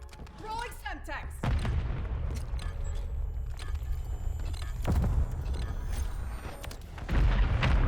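A Semtex grenade detonates in Call of Duty MW3 multiplayer, a loud low boom about 1.5 seconds in, followed by further heavy blasts and rumbling gunfire across a busy match, with a player talking over it.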